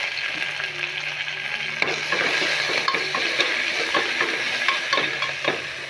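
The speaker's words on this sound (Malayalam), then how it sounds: "രണ്ട് പച്ചമുളക് രണ്ട് വറ്റൽമുളക് കറിവേപ്പില ഇതെല്ലാം കൂടെ ഒന്ന് വഴറ്റി കൊടുക്കാം" Green chilies, dried red chilies and curry leaves sizzle steadily in hot oil as they are sautéed, with a near, continuous frying hiss and occasional scrapes of a stirring spoon.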